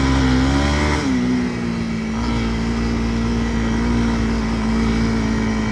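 A car's engine hums steadily as it drives down a hill and around a corner, with a lower-pitched engine tone settling in after a brief shift, continuous and close, with no talking.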